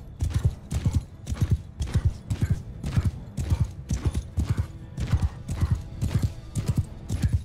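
Horse hooves clip-clopping in the video game Mount & Blade 2: Bannerlord, a fast regular galloping rhythm of heavy thuds, close and continuous.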